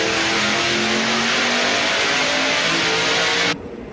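A junkyard 6.2-liter LS V8 from a 2010 Camaro, stock short block with an aftermarket cam, revs loudly and steadily up close for about three and a half seconds before cutting off abruptly.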